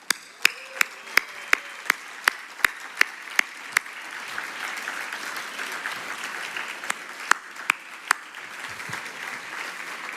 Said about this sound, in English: please allow us the honor of a standing round of applause